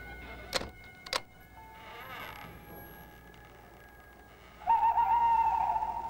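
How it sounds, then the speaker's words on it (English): An owl hoots at night near midnight in a spooky outdoor scene: a couple of sharp clicks early, a faint airy lull, then a sustained, wavering hoot that is fairly clear over quiet background noise. "Just an owl."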